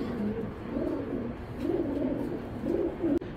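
Racer pigeons coo repeatedly in low, throaty phrases, three rolling coos spaced about a second apart, fairly faint over a steady background hum, with a sharp click near the end.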